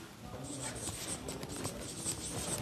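A phrase being written gives a faint, continuous scratching of strokes against a quiet room hum, with no clear speech over it.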